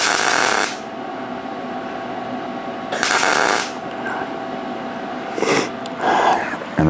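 Metal welding on top of an earlier weld gives short, harsh crackling bursts that start and stop over a steady background hum, close and fairly loud.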